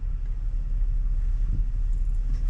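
A Ford Expedition in low four-wheel drive gives a steady, close, deep rumble of engine and drivetrain, loud and continuous with no voices over it.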